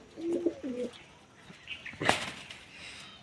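Domestic pigeons give a short, low cooing phrase up close, followed by a sudden burst of wing flapping and softer rustling.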